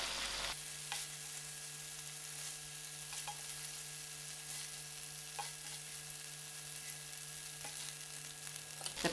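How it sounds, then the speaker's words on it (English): Prawns sizzle in oil in a frying pan, a steady, faint crackling hiss with a constant low hum underneath and no talking. "My prawns has fried out, so I'm just going to take it off."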